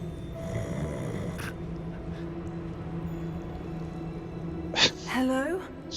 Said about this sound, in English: Oh look, we have a snoring goblin.